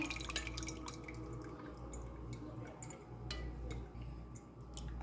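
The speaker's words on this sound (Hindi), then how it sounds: "अब हम स्ट्रेन कर लेंगे इसको।" Soaked sago pearls are strained, with faint scattered drips and small liquid ticks over a low hum, quiet and close, with no talk.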